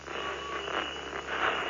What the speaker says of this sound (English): that will be just the sound you'll hear as I tune to the different channels